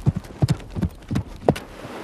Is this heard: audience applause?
no